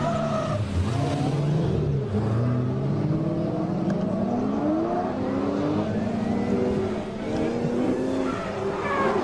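BMW race cars accelerate at the start of a circuit race at Croix-en-Ternois. Engines rev up through rising gear pitches, with some tire squeal, loud and continuous over several seconds.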